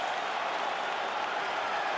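A video game crowd in UFC 5 cheers and applauds at the end of a fight, producing a steady, even roar of clapping that stays level for the whole two seconds, heard without any talk over it.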